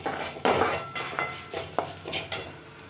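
A metal spoon scrapes and knocks around a pan while grated coconut and salt are stirred together, several distinct clinks and scrapes in a loose rhythm with a faint sizzle underneath.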